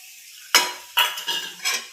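Roasted semolina being stirred together with coconut and milk, a few close, distinct scraping strokes of a spoon against the pan in quick succession, with soft sizzling between them.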